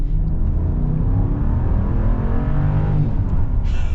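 A 2022 Jeep Grand Wagoneer Series III's Hemi V8 engine hums and revs steadily in sport mode at close range, a deep continuous rumble with a rising whir, no voices over it.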